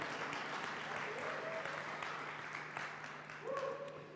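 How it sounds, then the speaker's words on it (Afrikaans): A church congregation claps hands together during a service, producing steady dense applause at a moderate distance with voices mixed in underneath. "Ons klap hande vir die koning, nie vir 'n mens nie."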